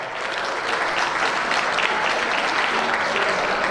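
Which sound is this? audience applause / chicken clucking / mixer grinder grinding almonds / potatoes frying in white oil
audience applause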